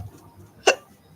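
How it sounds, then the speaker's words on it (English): A single short hiccup sounds close by in a quiet room, a quick sharp catch of breath over faint background hush. "Oh, hiccup."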